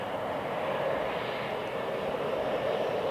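An Air Dolomiti Embraer jet at Heathrow Airport, a steady broadband engine roar from a moderate distance, continuous and even throughout with no voices over it.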